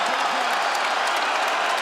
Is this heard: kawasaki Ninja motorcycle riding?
no